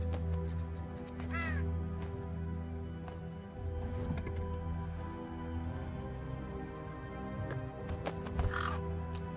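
Crows caw in the horror video game True Fear: Forsaken Souls, harsh repeated calls rising over a low droning ambient backdrop, moderately loud and spaced irregularly through the scene, with no one talking.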